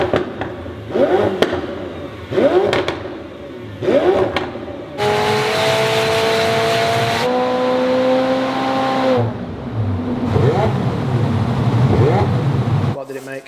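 A car with a straight-piped Inconel exhaust gives three sharp, loud revs, then holds a long, high, screaming rev before it drops away. The sound is close and harsh.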